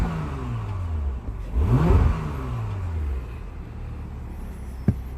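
Engine of a 2021 Porsche Macan S revving up and settling back, a rising and falling mid-pitched roar heard close with a steady idle hum around it and a brief knock near the end.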